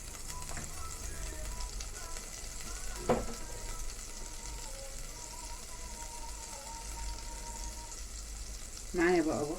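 Butter and a little oil sizzle in a pot for a vegetable soup, a soft, steady frying crackle held at low level, with a couple of brief metallic clinks and a louder clatter near the end.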